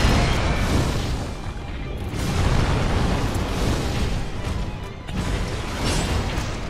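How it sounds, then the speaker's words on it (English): Fireball spell explosions in the video game Dark Souls: dense, loud, rumbling blasts and crashing bursts surge continuously with a few swells, without any talking over them. "And you're shooting fireball."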